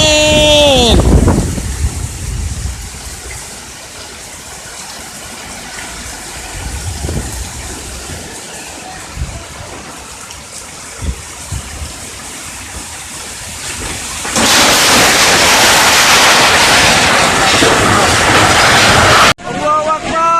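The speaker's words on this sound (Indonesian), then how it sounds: "hujan angin." A strong wind and rainstorm in Cirebon, West Java, blows as a rough, gusty rush that swells into a loud, steady roar near the end, while voices are heard over it.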